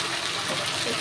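Water pours steadily into a pan to rinse out a ground paste of ginger, garlic, cumin and coriander, a continuous soft gushing splash lasting about a second.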